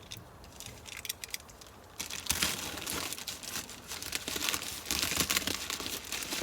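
A knife slices through the plastic packaging of a light parcel being unboxed, producing crinkling and tearing rustles, quiet at first, then louder and busier as the plastic is cut and pulled apart.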